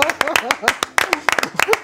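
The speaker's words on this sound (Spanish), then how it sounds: "Un aplauso" Sharp hand claps sound unevenly in a Spanish-language special broadcast programme, with people speaking over the clapping.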